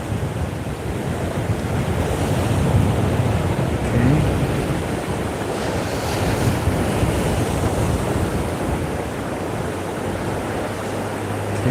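Ocean surf rolls in at night along a saltwater shore during fishing, a steady loud wash of breaking waves mixed with wind buffeting the microphone, continuous and close with no talk.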